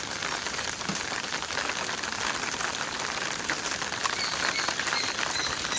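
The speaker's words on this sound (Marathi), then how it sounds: "बघा पाऊस मस्त पडतोय" Rain falls at night over a home garden of flowering plants, an even, continuous patter at moderate-to-soft level with no voices.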